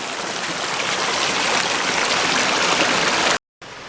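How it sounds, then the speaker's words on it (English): A pretty creek along the Nubbin Creek Trail at Cheaha State Park, Alabama, rushing steadily in a loud, close, broadband wash that stops abruptly for a moment near the end. "The Nubbin Creek Trail has got a pretty creek."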